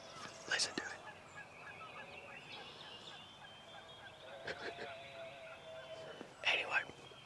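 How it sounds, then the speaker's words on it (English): Wild turkey gobblers in their strut zone with hens nearby gobble three times during a spring hunt, moderately distant bursts over quiet woodland background, with soft whispering between calls. "these gobblers, they're in their strut zone"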